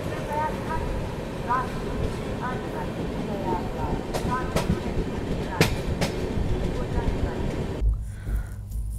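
The 12077 Ranchi–New Delhi Garib Rath train rushes past near Bhabhua Road, a loud, close rumble with rattling wagons and clickety-clack rail joints that cuts off abruptly near the end.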